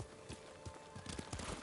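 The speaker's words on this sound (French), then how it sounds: "Tu es un bon cheval." Horse hooves clip-clop in a quick, uneven rhythm as a mount trots along in the samurai video game Ghost of Tsushima, fairly faint and close, with no talking over them.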